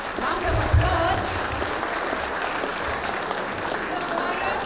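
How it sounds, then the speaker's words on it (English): An audience applauds about 180 student performers at a Robin Hood musical drama, a dense, continuous wash of clapping that holds steady throughout. "I think they deserve a round of applause."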